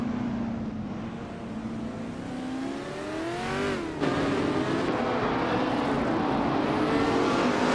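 Racing cars, a 1969 Legrand Mark 11 and a 1968 Lotus 70, drone with steady engine tones that rise and fall as they rev and shift, loud and close, with no talk.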